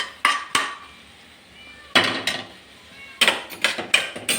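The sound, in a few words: mixing jackfruit stir-fry in a pan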